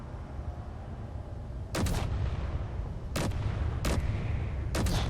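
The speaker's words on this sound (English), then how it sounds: "some of the turrets like to shoot each other" Turret gunfire in Space Engineers, with a steady rumbling background broken by several sharp, loud broadband bursts of shots spaced a second or so apart, with no talking.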